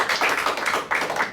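Children clap together in a classroom game, a dense burst of many small hands repeating in quick uneven waves over a short moment, fairly close and with no talking.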